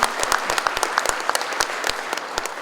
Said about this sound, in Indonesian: Jadi saya minta tolong semuanya tepuk tangan.